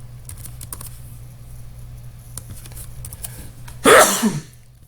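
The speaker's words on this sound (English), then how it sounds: "I had a sudden sneeze" A sudden sharp sneeze bursts out near the end, loud and close, after a stretch of quiet room noise with faint tapping.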